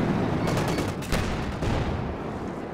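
Artillery fire in the video game Company of Heroes 2 comes as a rolling barrage of booming blasts and crackling impacts, loud and continuous across the whole moment, with no talking.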